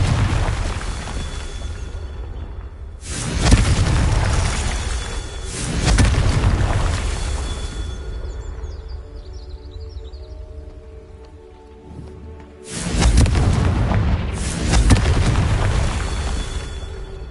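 Confringo blasting spells go off in Hogwarts Legacy as deep, loud, rumbling explosions in separate bursts, each fading into a long rolling tail, with a quieter lull between the blasts.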